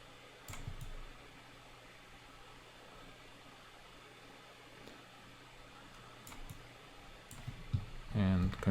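Sparse, faint computer mouse clicks come from a user working in ZBrush, a few isolated clicks over a low steady fan hum, with louder handling noise near the end.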